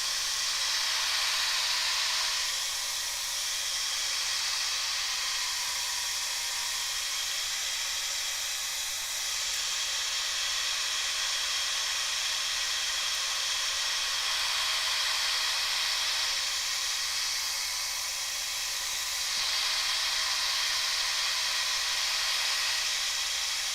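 A hair dryer blows steadily over a drying watercolor painting, a continuous close airy roar with slight swells in pitch as it is moved, running alone throughout.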